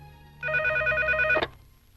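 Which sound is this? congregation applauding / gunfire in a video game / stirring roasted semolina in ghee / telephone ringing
telephone ringing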